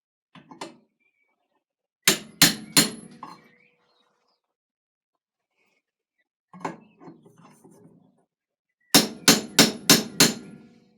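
Sharp metallic hammer blows ring out as a guard is hammered into place, in quick bursts of three to five strikes, separated by silent pauses, close and loud.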